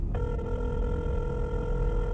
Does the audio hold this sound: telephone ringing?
yes